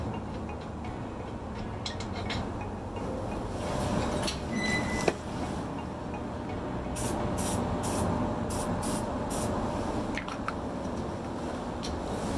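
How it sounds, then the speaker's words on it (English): WD-40 sprayed onto stiff, stuck parts of a 1993 Honda Shadow VT600 during a bobber build, heard as a steady hiss running throughout with a few short sharper bursts and light clicks. "WD-40 is kind of my savior right now."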